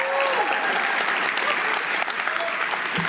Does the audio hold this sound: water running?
no